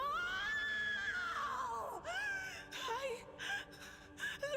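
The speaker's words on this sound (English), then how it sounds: "That was a good scream." A long anguished scream from the Warhammer 40,000 game Rogue Trader rises and falls for a couple of seconds, followed by broken gasping cries and sobs in the game's dialogue.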